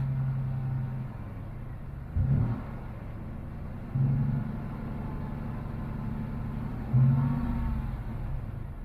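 A Typhoon truck engine, started for the first time in over ten years, idles with a low steady rumble close by, lifting briefly into three small revs before settling again, with no voices.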